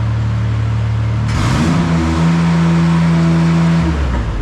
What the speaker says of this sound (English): click this button here. It'll raise the RPMs, and then you're off to charge